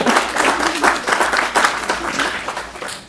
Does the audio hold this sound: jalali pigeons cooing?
no